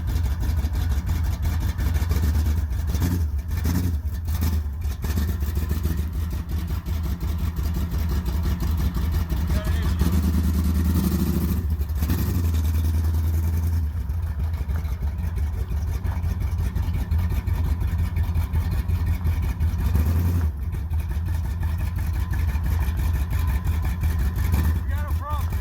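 A 1973 Plymouth Satellite with a big-block stroker V8 idles and runs roughly, a loud, steady low rumble with uneven surges and dips, while people talk nearby.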